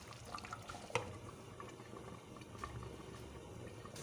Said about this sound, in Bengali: 2 মিনিটের জন্য আমি ঝোলটা টকবক করে ফুটিয়ে নেব।